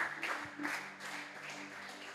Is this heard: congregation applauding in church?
yes